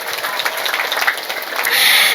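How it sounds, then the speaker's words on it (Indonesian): A family gathering at an Islamic religious lecture applauds, a short burst of mixed clapping that grows louder in its last moments. "Tepuk tangan dulu dong."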